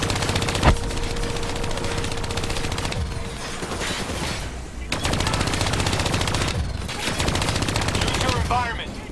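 Mounted turret firing in Call of Duty Black Ops 3, a steady loud stream of rapid machine-gun shots running for several seconds with only brief gaps and a few heavier impacts.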